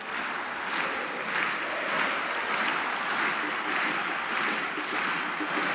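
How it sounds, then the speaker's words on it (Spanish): A stadium crowd at a Paraguayan league match between Cerro Porteño and General Caballero applauds a player leaving the field as a substitute. The broad, steady wash of clapping runs throughout without a pause, and no voices stand out over it. "aplauso para Bobadilla también, de reconocimiento por el partido"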